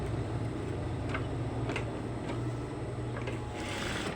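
A sewing machine stitches a one-inch reflector strip onto a rider vest, giving a steady close mechanical whirring hum with faint ticks, no talk.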